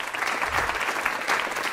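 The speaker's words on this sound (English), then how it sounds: "Give her a round of applause." An audience applauding at a talent show semi-final, a short dense burst of steady clapping filling the room at moderate loudness.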